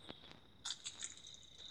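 Crickets chirp faintly in a video game match, a few short, thin, high trills repeating through quiet ambience with no speech.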